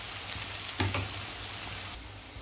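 Onion and garlic fry in a pan, browning toward crisp, with a steady broadband sizzle and a couple of brief stirring knocks partway through, no talking.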